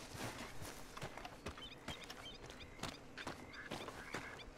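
Horse hooves clip-clop at a steady walking rhythm in Red Dead Redemption 2, close and clear, with faint chirping ambience around them.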